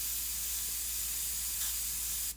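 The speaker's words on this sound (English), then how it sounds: "spraying the black very thin right out of the bottle" An airbrush sprays thin black paint straight from the bottle, a loud, steady close hiss of air and paint that cuts off abruptly at the end.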